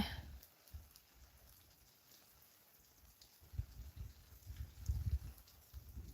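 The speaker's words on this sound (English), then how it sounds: "Just the rain." Soft steady rain patters outdoors on a farm, with faint low thumps and rustling moving nearby as the drizzle continues.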